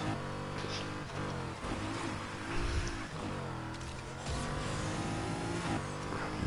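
Race car engine in Need for Speed Heat on PS4 roaring and revving continuously as it speeds off, with shifting pitch and a brief squeal of tires, loud and close throughout.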